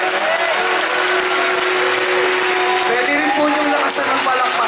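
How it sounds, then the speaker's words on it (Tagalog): A church congregation claps continuously during worship, dense and loud throughout, with voices and a tonal hum under the applause. "Asan ang palakpak niyo?"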